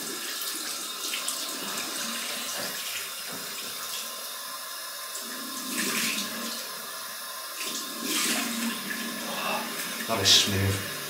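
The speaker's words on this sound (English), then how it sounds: "Cold water rinse." Cold tap water runs into a sink for a shaving rinse, a steady hiss with splashing surges while faint voices murmur in the background.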